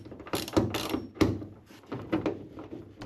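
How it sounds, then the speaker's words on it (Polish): Ratcheting wrench clicks as bolts are unscrewed from the front bonnet of a Kia Sportage, a few sharp mechanical bursts spread irregularly over the clip, close and fairly quiet. "Zacznę od razu od wykręcenia śrub w przedniej masce."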